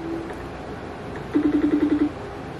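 A phone rings in a quick burst of about eight short, evenly spaced electronic trills, clear and fairly close, following a brief earlier tone and quiet background.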